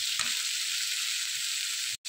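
Chickpeas fry in hot oil with a steady, close sizzle that holds for about two seconds before a brief dropout near the end.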